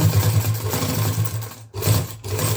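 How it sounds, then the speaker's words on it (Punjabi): A sewing machine stitching a zipper onto a coat runs steadily with a fast, buzzing mechanical chatter, breaking off briefly twice before resuming, close and fairly loud. "ਜਿੱਥੇ ਕੱਪੜਾ ਮੋਟਾ ਮਸ਼ੀਨ ਹੌਲੀ ਕਰ ਲਓ ਤਾਂ ਕਿ ਤੁਹਾਡੀ ਸੂਈ ਨਾ ਟੁੱਟ ਸਕੇ"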